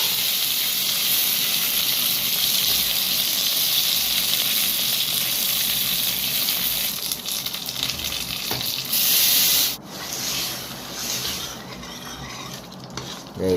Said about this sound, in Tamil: குக்கரில் எடுத்து அப்படியே கொட்டிட வேண்டியதான்